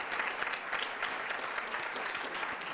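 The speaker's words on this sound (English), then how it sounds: "So let's give a round of applause for these folks." Steady applause from an audience honoring student debaters at a residency event, dense overlapping claps sustained at even loudness throughout with no voices.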